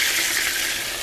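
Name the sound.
water added to hot frying pan with patties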